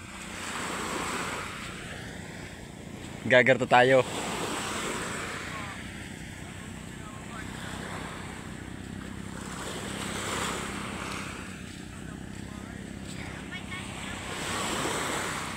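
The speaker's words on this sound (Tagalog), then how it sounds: "Habang naglalakad tayo dito sa tabing dagat," Sea waves wash steadily onto a shoreline during a beach walk, a continuous broad roar with slow swells and wind buffeting the microphone, and a person speaks briefly over it.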